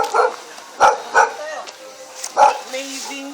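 A dog in Bolo Bolo barks several sharp times in quick succession, close by, with people talking over and between the barks.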